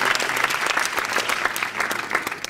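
Audience applause at a stage presentation, dense rapid clapping from a large room, loud and close, steady throughout with a faint voice underneath.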